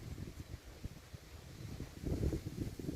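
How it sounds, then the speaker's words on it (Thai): Strong wind blows outdoors beside open fields, producing low rumbling gusts that thump against the microphone, fairly quiet at first and growing heavier toward the end. "ลมมากค่ะวันนี้ลมลมลมแรงจัง"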